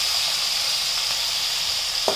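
Tomatoes hitting hot oil in a pan for a bitter gourd fry give a steady, close, even sizzle that holds throughout, with a brief clatter near the end.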